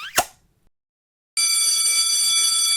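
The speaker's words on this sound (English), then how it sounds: "Silly, that's the period bell." A school period bell rings, starting abruptly after a short plop and a moment of silence, then holding a loud, sustained metallic ringing tone to the end.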